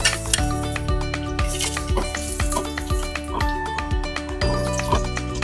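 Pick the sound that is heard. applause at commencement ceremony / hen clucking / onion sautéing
onion sautéing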